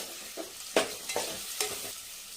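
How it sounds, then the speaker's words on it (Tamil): Onions and curry leaves sautéing in hot oil with fenugreek for a spicy fish kulambu: a soft steady sizzle broken by three or four sharp spoon-stirring scrapes, close by, with no talking. "உடனே வெங்காயம் போட்டுடலாம். கருவேப்பிலை வதக்கிக்கலாம்."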